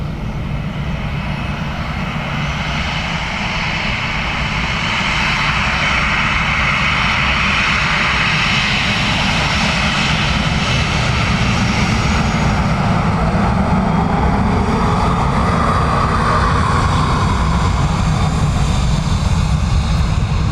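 An Aer Lingus airliner comes in to land on runway 28 left at Dublin Airport, a loud, steady engine roar that swells slightly as it passes nearby.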